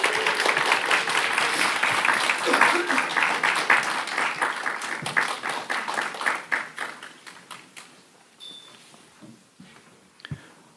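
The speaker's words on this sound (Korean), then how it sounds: "힘찬 응원의 박수 한번 치도록 하겠습니다" A church congregation at a Sunday worship service claps in welcome for an elder, a dense sustained round of applause that gradually thins into scattered claps and then dies away.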